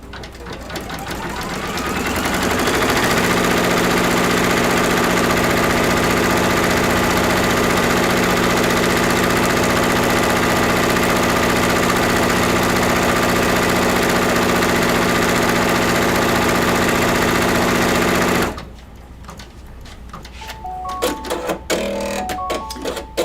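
A sewing machine stitching, its motor spinning up and running in a loud, steady mechanical whir for about fifteen seconds before stopping, followed by faint clicks and handling sounds.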